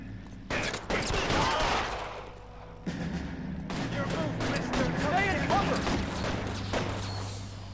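Gunfire in L.A. Noire: a loud burst of rapid shots with heavy thumps, a short pause, then a longer sustained barrage of automatic fire that rolls on to the end.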